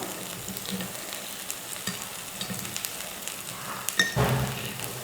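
Instant paniyaram sizzle steadily in a hot pan, and a louder scrape and clatter near the end marks the pieces being flipped over. The frying is close and fairly loud, with no one talking.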